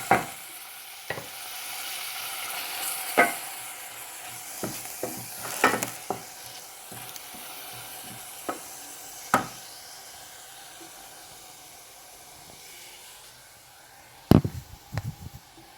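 Onions frying in a pan for a corned beef pie sauce give a soft, low sizzle, with scattered utensil clinks and scrapes and a sharper clatter near the end.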